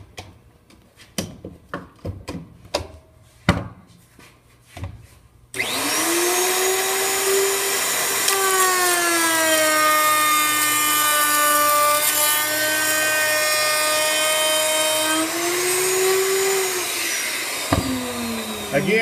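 A router fitted with a bearing-guided bit cuts into a wooden picture frame, starting after several sharp knocks and clamp clatters, then a loud sustained whine whose pitch dips and rises as the cut proceeds, ending with a clunk.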